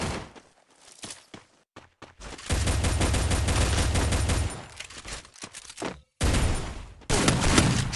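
Gunfire from the mobile battle-royale video game Free Fire comes in loud, rapid bursts of shots broken by short silences, with thumps and footsteps between the volleys.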